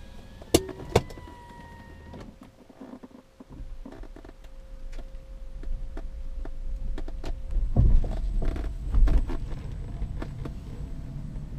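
An electric-converted BMW E36 drives with a quiet, steady hum of the motor and road noise that builds gradually, plus a couple of sharp clicks near the start and a faint whirr like a power window.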